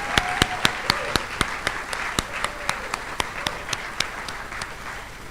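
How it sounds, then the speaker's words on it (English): Scattered applause at a high school graduation ceremony, with a few loud, sharp individual claps standing out rhythmically over a thinner bed of clapping from the crowd. "Let's just give them one more round of applause."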